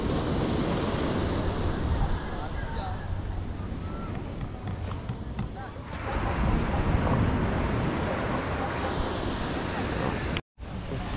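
Sea surf washes and rumbles around a fishing boat waiting on its nets offshore, steady wave and wind noise buffeting the microphone, with voices talking over it.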